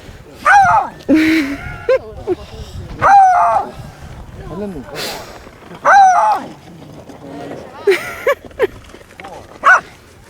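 Repeated sharp barks from a dog hidden in a bush on Comino, Malta, in bursts of one or two over about ten seconds, close by, mixed with people talking.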